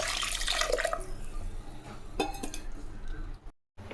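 Water poured from a vessel into a no-dal instant sambar mixture in a pan, a continuous splashing pour that fades after a few seconds, with no talking.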